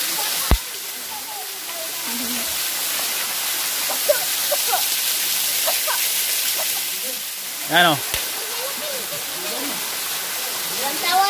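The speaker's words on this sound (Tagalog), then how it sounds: "Waterfalls." Small waterfall in a valley running with low water in dry weather, a continuous rushing splash throughout, with birdsong and brief nearby voices over it.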